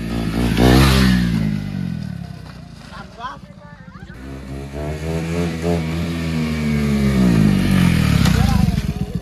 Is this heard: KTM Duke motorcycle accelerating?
yes